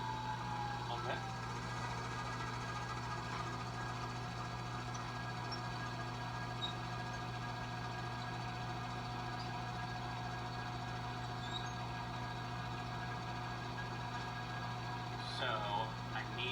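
A milling machine spindle runs steadily while roughing out a part, giving a constant low mechanical hum with faint tonal whine. A few small clicks and taps sit on top of it.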